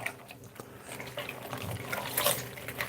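Hot soapy water runs and splashes faintly in a kitchen sink during washing up, a soft, continuous wash of liquid with small splashes rising toward the end.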